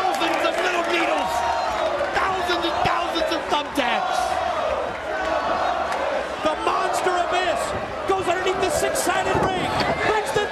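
A wrestling crowd at a no-disqualification match in a six-sided ring, roaring and whooping at thumbtacks, in a dense, continuous rumble of cheers and shouts with voices raised throughout.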